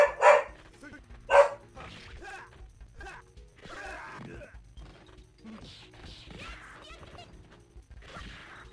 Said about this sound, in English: the dog's bark